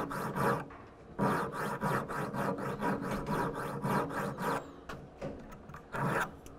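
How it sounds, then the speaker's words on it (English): A parallel file rasps a curve into the base of a metal jewelry stamp, the close, steady back-and-forth strokes coming in rhythmic bursts separated by brief pauses. "you can take a parallel file and make a different design by filing a curve at the base"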